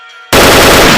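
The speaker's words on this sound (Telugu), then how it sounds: "అక్కడ కాదురా, ఇక్కడ కాల్చు." A burst of loud, sustained gunfire erupts abruptly after a short quiet moment and continues as dense, harsh rapid shooting in a dramatic historical scene.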